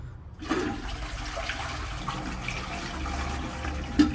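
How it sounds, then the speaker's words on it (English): A repaired toilet flushes steadily for several seconds, a continuous rushing and gurgling of water close by with no talking. "Hey, we got a flushing toilet."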